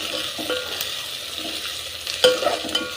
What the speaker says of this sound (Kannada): ಆನಿಯನ್ ಚೆನ್ನಾಗಿ ಫ್ರೈ ಆಗ್ತಾಯಿದೆ.